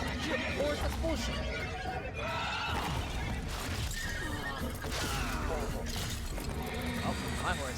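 Horse neighing and whinnying in Warframe's Duviri Paradox, with clip-clopping hooves under a dense, loud game soundscape, and several whinnies repeating across the stretch.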